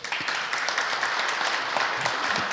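Audience at an AI research institute anniversary symposium applauding a guest panelist, a full, continuous round of clapping from many hands, loud and even throughout, with no speech.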